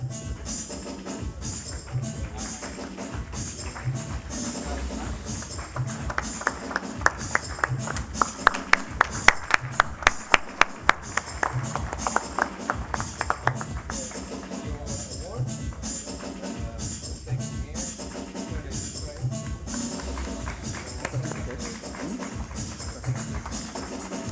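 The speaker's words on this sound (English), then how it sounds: "A round of applause, please" An audience claps for an award winner at Kenya's 2014 ICT Innovation Awards ceremony: a brief run of sharp, scattered claps midway through, set against room noise and ongoing speech.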